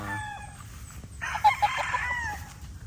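A rooster crows once, fairly close, over a low background of farmyard noise and faint clucking.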